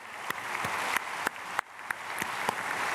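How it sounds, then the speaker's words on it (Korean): A church congregation applauds the choir after a Sunday worship service. The clapping is dense and sustained throughout, with a few sharper individual claps poking out of the crowd sound, and there is no speech over it. "박수하겠습니다."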